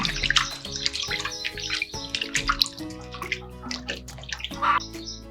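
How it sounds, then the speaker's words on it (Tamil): Thoothuvalai leaves are swished and rinsed by hand in a vessel of water, producing irregular splashes, sloshing and dripping in close, uneven bursts with no talking. "இப்போ வந்து இதை நம்ம தண்ணியில் போட்டு நல்லா கழுவி எடுத்துக்கலாம்"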